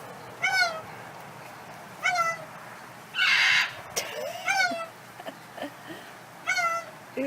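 A pet bird gives about five loud, harsh, meow-like calls at irregular intervals, close by, with a brief hissing burst in the middle.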